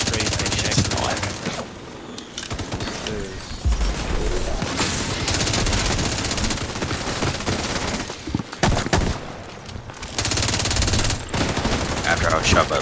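Dense, loud automatic gunfire in The Division 2, with rapid machine-gun bursts and volleys of shots running almost nonstop, briefly thinning before resuming, with faint voices mixed in.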